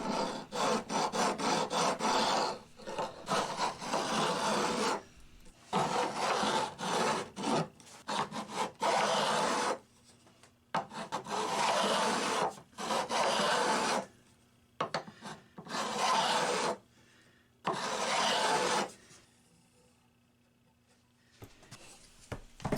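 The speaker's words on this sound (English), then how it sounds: "we're beveling the frets on this side" A file bevelling the fret ends on one side of a vintage Hohner guitar fretboard, with long bursts of rasping strokes separated by short pauses, close and fairly loud.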